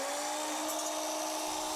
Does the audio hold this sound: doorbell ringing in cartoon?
no